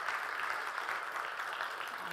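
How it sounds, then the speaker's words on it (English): A brief round of applause at a social enterprise conference, with faint and distant clapping from the audience washing evenly through a short stretch. "So can we give a round of applause again to all three social enterprises?"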